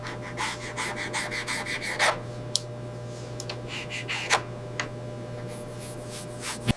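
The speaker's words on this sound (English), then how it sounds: "Smoothing the ring." A file or abrasive scrapes back and forth across a freshly cast metal ring, giving repeated rasping, rubbing strokes at close range with a few sharper scratches over a steady low hum.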